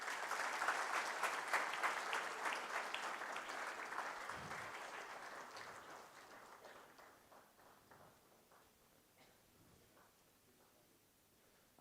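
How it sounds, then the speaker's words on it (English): Crowd applause at the inauguration of the Sardar Patel International Conference, dense clapping that starts strong and gradually thins and fades over about twelve seconds. "Please give them a big round of applause."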